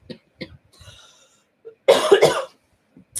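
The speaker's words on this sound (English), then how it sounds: "That was a once a day cough." A single harsh, close cough bursts out after a few small throat noises and breaths, then quiet.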